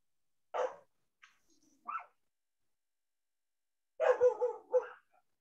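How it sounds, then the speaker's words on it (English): A dog barks in the background of a fly-tying session, giving a few scattered single barks followed by a short cluster of yips, fairly distant and isolated between silences, with no talk over it. "That can't be your dog, Paul, barking in the background."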